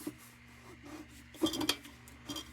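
A toothbrush with 409 cleaner scrubs a Dietz Traffic Gard No. 40 dual traffic signal in quiet scratchy bursts, soft and close, with a steady low hum underneath and a few louder scraping strokes midway.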